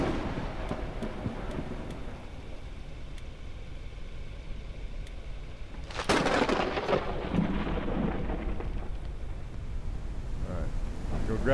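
Thunderstorm in the airship survival game Forever Skies: steady rain and rumbling wind, then a sudden loud thunder crack midway that rolls off into a long, booming rumble.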